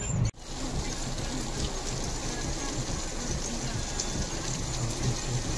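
Heavy monsoon rain pours down in the Konkan region near Dapoli, a steady dense roaring wash with no pauses, loud and close, after a brief knock at the very start.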